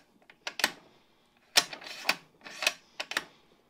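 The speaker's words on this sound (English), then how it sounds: "Go ahead and put the bolt back in." Bolt of a Remington 700 rifle in a McRees chassis sliding and locking back into the action: a series of sharp metallic clicks and scrapes in quick clusters, close and crisp, with no talk.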